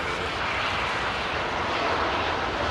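An El Al airliner in special livery at Heathrow produces a steady, dense jet engine roar that stays loud and even throughout, with no voices.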